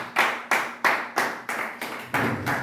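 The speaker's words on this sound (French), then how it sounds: "On acclame très fort le Seigneur." A church congregation applauding during a Sunday service, rhythmic claps landing in unison about three times a second, loud and close, with no talking over them.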